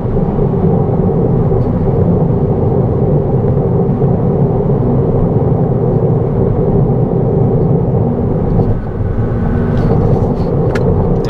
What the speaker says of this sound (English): This highway that I'm on does a really good job of showing you the amount of road noise that comes in the car